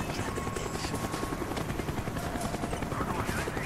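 A helicopter's rotor drone and engine roar steadily and loudly throughout in Call of Duty: Black Ops, a continuous dense whir with no pause.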